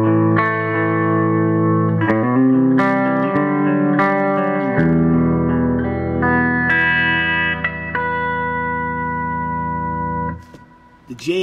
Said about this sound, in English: here's what my clean tone sounds like